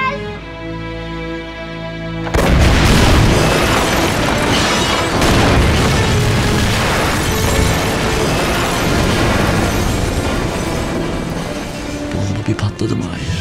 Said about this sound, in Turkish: Bomba bir patladı Mahir.